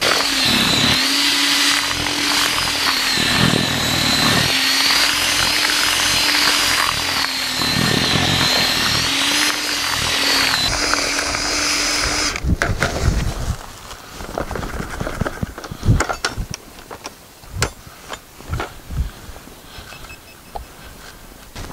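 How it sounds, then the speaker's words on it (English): Power drill churning ground bait and soil in a bucket, a loud continuous whine with a steady motor tone for about twelve seconds, then stopping abruptly, followed by scattered scraping and knocking sounds. "with the drill, just give it a good mix around."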